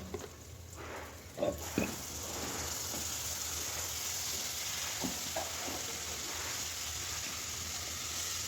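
Cumin, chopped onions and ginger-garlic paste fry in hot oil, a steady, soft sizzle with a few clinks and stirring knocks near the start.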